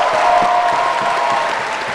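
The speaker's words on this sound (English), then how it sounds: "Could we please have one huge round of applause for all four teams?" Applause at the open final of a university debating championship, a dense, loud wash of clapping from a large audience that holds steady and then tapers slightly.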